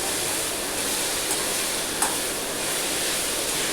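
Vegetables sautéing in oil in a home kitchen, a steady dense broadband sizzle and hiss throughout, fairly loud and even, with a couple of faint clicks and no voices.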